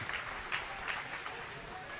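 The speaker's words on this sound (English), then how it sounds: "bit of applause going through the crowd" A hockey game crowd gives a brief, quiet ripple of applause, scattered clapping that stays faint and even across two seconds in a distant arena.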